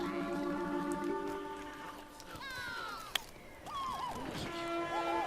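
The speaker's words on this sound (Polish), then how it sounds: "Pociąg." A train horn blares in the Plants vs. Zombies: Garden Warfare video game, sustained harmonic tones sliding and wavering over a busy backdrop of game noise and effects.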